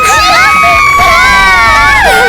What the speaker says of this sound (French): Maintenant, applaudissez fort si vous êtes pour les garçons!